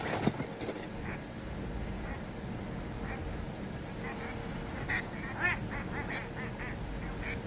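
A duck in the Dawn of Defiance video game quacks in a series of faint, raspy honks scattered through a steady ambient hiss, several brief calls clustered in the latter half, distant and low in level.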